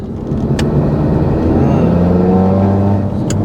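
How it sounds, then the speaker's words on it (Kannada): A Maruti Alto's engine drones and howls through its intake while driving, a loud steady in-cabin hum with a faint rising pitch and a couple of small clicks. "ಆ ಇಂಟೆಕ್ ಹೌಲ್ ನೋಡು ಮಚ್ಚ ಎಷ್ಟು ನೀಟಾಗಿ ಕೇಳಿಸುತ್ತೆ"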